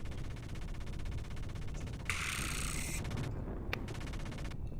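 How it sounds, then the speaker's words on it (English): Sustained rapid gunfire from the Xenogears video game, a dense continuous rattle of shots with a harsher burst partway through, steady and loud throughout. "They're all shooting."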